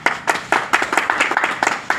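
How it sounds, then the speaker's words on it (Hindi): Audience clapping in sharp, regular bursts at a village health check-up camp held by a hospital in a garden venue at Nandpur, Dhaulana, with the claps fairly close and rhythmic over a couple of seconds. "ताली तो बजा दो।"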